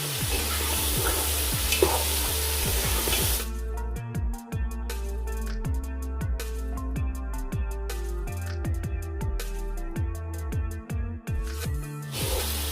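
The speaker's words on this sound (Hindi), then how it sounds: "अब इसको हाई फ्लेम पे 5 मिनट के लिए भूनेंगे।" Onions fry with yakhni in a pan over high flame, giving a constant sizzle broken by repeated scraping taps of stirring.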